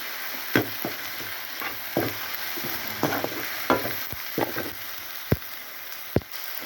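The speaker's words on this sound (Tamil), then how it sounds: "இந்த பச்சை வாசம் போகிற அளவுக்கு இதை வதக்கிக்குவோம்" Something sautés in a pan for a dalcha gravy, a soft continuous sizzle punctuated by repeated knocks and scrapes of a spoon stirring, close and fairly clear.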